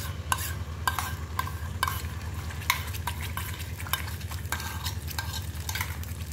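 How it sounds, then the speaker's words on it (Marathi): Onion and tomato paste fries in hot oil for a hotel-style paneer curry, a steady close sizzle with repeated sharp scrapes and clinks of a stirring spoon against the pan throughout, with no talking. "आणि हे तेल तापलं की यामध्ये कांदा टोमॅटोची पेस्ट ही घालून घ्यायची आहे।"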